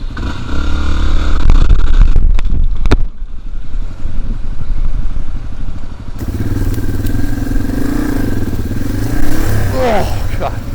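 A dirt bike engine revs hard through a full wheelie on a wilderness trail in Vermont, loud and close, with clattering bursts, a brief drop-off, then a renewed sustained roar while riders talk.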